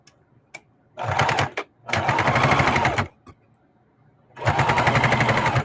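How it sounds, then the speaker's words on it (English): A sewing machine stitches a label onto a collage tote bag in three loud, close bursts of rapid needle chatter, separated by short pauses. "So I'm going to sew this label on."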